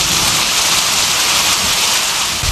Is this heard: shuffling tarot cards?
no